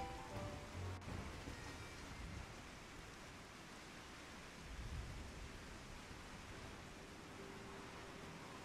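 Steady rain falls across a Final Fantasy XIV: Heavensward game scene, a broad constant hiss with soft low rumbles, continuous and even throughout with no voices.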